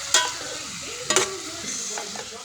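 Pork frying in a pan, a low steady sizzle broken by a few sharp scrapes and knocks as it is stirred, close and fairly quiet.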